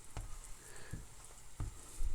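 Keto sauce thickening as it simmers in a pan, with a soft steady sizzle and a few light scrapes of the spoon as it is stirred, close and quiet.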